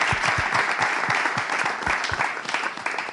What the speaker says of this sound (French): on va quand même applaudir la présence des étudiants de Seine